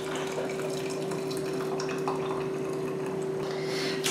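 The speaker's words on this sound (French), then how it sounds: "je termine par verser mon jus, juste les oranges" Orange juice pours in a steady, continuous stream into a glass while a summer drink is being assembled, with a faint splashing trickle throughout.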